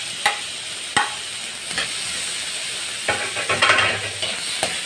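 Onion and tomato sauté in a pan for talakitok fish soup, a close steady frying hiss with a few sharp scrapes and taps of a spatula, some bursts of sizzle in the middle, and no talking.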